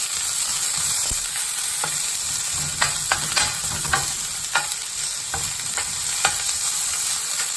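Capsicum sizzling in an Aldi non-stick fry pan for a quick breakfast, a steady hiss of frying with occasional scrapes and clicks from stirring, close and continuous with no talking.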